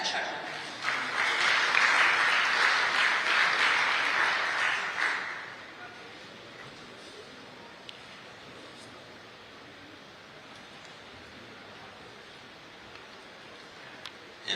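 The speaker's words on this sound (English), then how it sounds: "A round of applause, please, for Captain Sharma." Audience applause at a freight forwarders' convention, a loud burst of clapping lasting about five seconds before dying away into quiet room tone.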